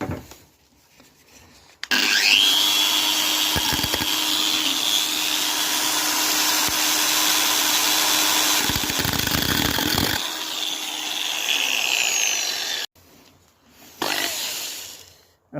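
A loud power tool whines steadily as it cuts through material during a front door lock repair for several seconds, stopping briefly before a short final burst.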